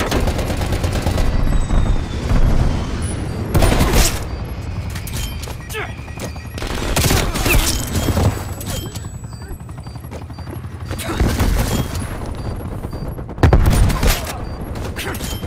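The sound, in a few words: strafe run gunfire and explosions in Black Ops Cold War video game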